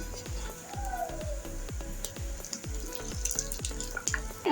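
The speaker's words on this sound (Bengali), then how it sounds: "আমি বাকিগুলো ভেজে নিচ্ছি।" Red lentil fritters for a kofta curry fry in hot oil, a steady close sizzle under a voice, with a regular thumping pulse running through the background.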